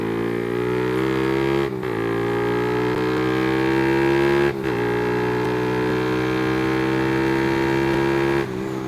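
A modified carbureted Suzuki Satria FU motorcycle engine revs hard and holds high, dropping briefly twice between sustained revs, loud and close with no talking.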